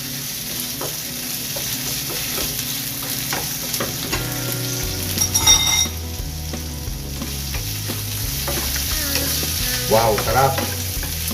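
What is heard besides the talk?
fish roe frying in a pan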